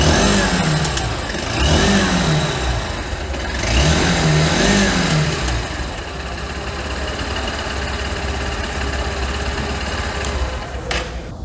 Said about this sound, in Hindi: अब लगे हाथ हम लोग इसका एग्जॉस्ट भी सुन लेते हैं।